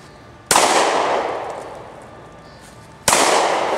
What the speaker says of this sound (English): Whenever you're ready, go shoot.